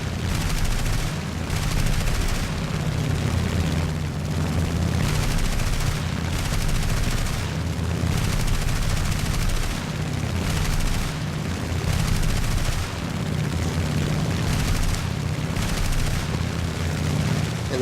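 Light-caliber machine guns on an HE 112 B fighter fire in long, near-continuous bursts at a bomber in War Thunder, loud and steady over a constant engine drone, with brief gaps between bursts.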